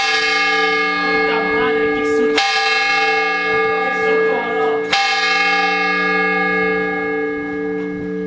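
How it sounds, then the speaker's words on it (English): Large church bells in Seville ring loudly overhead, their sustained metallic tones layering and droning, with two sharp fresh strikes cutting through the ringing hum. "The sweet sound of these bells marked the end of our time in Seville."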